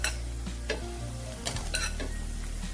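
Boiled chicken pieces frying in oil for a pickle, a steady close sizzle with a few scraping stirs of a spoon against the pan.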